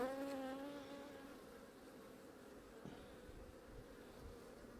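Steady droning buzz of honey bees, close and continuous, with a higher whine fading early and occasional soft bumps.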